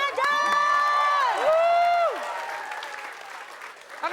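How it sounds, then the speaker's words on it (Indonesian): Studio audience applauding on an Indonesian TV comedy show, with loud clapping and cheering mixed with bright whistles or tones at the start, fading gradually over about four seconds. "kita kasih tepuk tangan buat Bang Mali"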